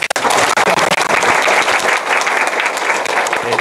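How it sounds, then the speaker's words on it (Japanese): An audience at a tech talk on Google BigQuery applauding to welcome the speaker, loud dense clapping from a room full of people, close and continuous with no talk. "拍手お願いします。"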